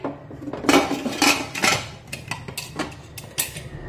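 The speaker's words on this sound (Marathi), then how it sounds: "आता कुकरला झाकण लावूया" Metal clanks and scrapes of a pressure cooker lid, with its whistle and ring removed, being fitted on, several knocks spread across a few seconds, close by with no talking.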